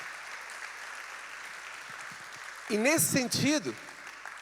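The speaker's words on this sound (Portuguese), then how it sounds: "Quem pode dar uma salva de palmas a Jesus?" A church congregation claps in a steady, soft wash that runs beneath someone speaking loudly into a microphone near the end.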